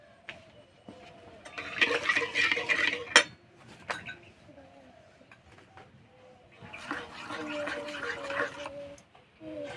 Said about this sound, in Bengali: এক বাটি সুজি নিয়েছি, অল্প অল্প দেবো আর মেশাতে থাকবো।